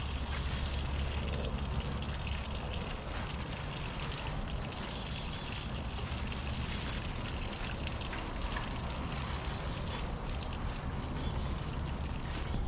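Water from watering a garden pot in a backyard garden, pouring and trickling steadily with a dripping, splashing texture that runs unbroken and fairly soft throughout, with no talk.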